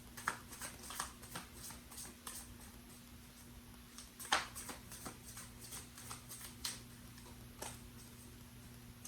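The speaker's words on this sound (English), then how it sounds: "Last shuffle." Soft, irregular riffling and tapping of tarot cards being shuffled, quiet and close, with a faint steady hum underneath.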